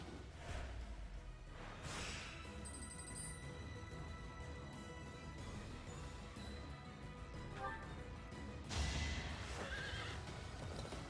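Horse neighing and whinnying with clip-clopping hooves from the video game Fire Emblem Three Houses, loud and steady over a continuous game soundscape, a sharp whinny rising near the end.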